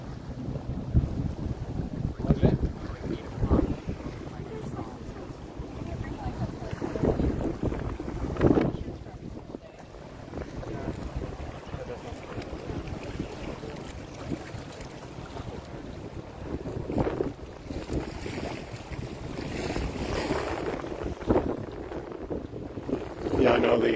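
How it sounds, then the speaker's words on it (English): Gusty wind buffets the microphone along the Waikiki shore at sunrise on Oahu, a steady low rumble with stronger bursts, mixed with faint surf and occasional brief talk. "I know the wind is a little tight right now"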